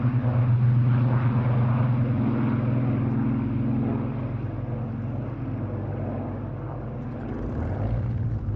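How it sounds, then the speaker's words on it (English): Two Spitfire Mark 14 aircraft flying at an airshow, a deep droning propeller-engine roar that holds steady then eases slightly before swelling again, moderately loud and distant, with no talking. "The first Spitfires up are the two Fighter Collection Mark 14s."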